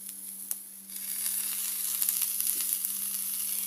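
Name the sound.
drumstick leaves added to a frying pan, sizzling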